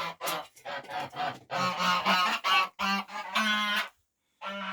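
Several geese honk loudly and close by in quick, overlapping bursts, followed by a brief pause before more honking.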